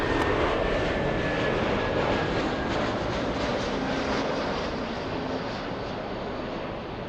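An airliner takes off from runway 24 left at Los Angeles, its jet engines roaring in a loud, steady, broadband rush that holds throughout and eases only slightly toward the end.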